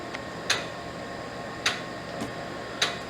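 A Qume QumeTrak 842 8-inch double-sided floppy drive formatting under DOS on a PC, giving sharp mechanical clicks roughly every second over a steady faint fan hum, close and fairly quiet.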